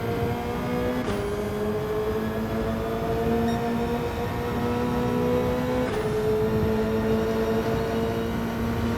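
Racing car engines in a racing game drone steadily, with the pitch climbing and then dropping sharply at gear changes about five seconds apart. The engine noise is loud and fills the scene without pause, and no one speaks.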